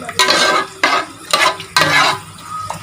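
Rice being stirred in a cooking pot, several bursts of scraping and rustling strokes with short pauses between them, close and fairly loud with no talking.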